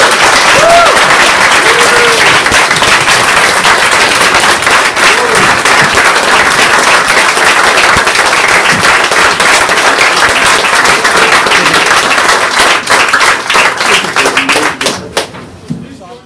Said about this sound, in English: Let's give our new Eagle Scout one more round of applause.